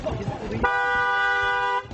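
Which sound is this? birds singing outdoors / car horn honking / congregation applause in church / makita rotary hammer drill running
car horn honking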